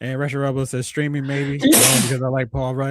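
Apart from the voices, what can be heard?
sneeze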